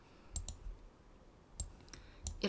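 A computer mouse clicks quietly in CAD drafting software, five short crisp clicks in loose pairs and singles against a faint room background.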